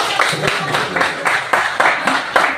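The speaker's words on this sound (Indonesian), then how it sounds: "tepuk tangan dulu" A classroom group claps in a steady rhythmic pattern of repeated bursts, fairly loud, with voices mixed in.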